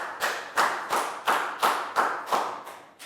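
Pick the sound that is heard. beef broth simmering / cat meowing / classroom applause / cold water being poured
classroom applause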